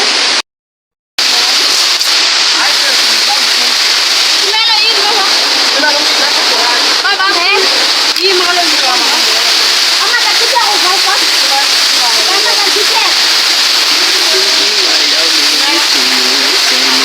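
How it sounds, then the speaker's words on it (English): Steady, loud roar of rushing water heard from the top of a waterfall on a nature hike, continuous broadband noise with brief voices faintly underneath. "We're on top of the waterfall"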